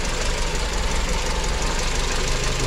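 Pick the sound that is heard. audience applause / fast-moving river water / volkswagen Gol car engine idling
volkswagen Gol car engine idling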